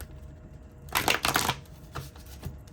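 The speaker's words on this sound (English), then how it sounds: "gonna see if I can just shuffle this deck a little bit so that all the cards can get mixed up" A deck of cards is shuffled in sections close by: a quick riffling burst followed by a couple of softer shuffles and taps, in quiet surroundings.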